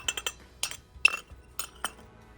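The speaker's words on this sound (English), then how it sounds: "Mix all the spice into the flour." A utensil stirs spices into flour in a bowl for pumpkin spice cake, giving a scattering of light clinks and taps against the bowl in uneven bursts, quiet and close, with no talking.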